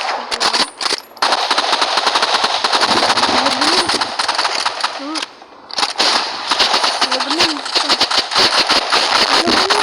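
Rapid automatic gunfire from the video game Rivals, loud and near, firing in long sustained bursts with only brief pauses, while players talk over it.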